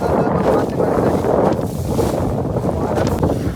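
Strong sea wind buffeting the microphone on a fishing boat near a fort, a loud steady roaring rumble that surges slightly, with faint water and boat noise underneath and no clear talk.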